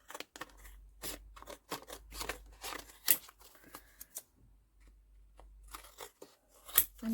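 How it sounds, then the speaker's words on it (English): Scissors cutting around a paper piece for a vintage junk journal, giving a series of short close snips and crisp paper rustles in an irregular rhythm, with brief pauses between bursts. "Just going to cut around it."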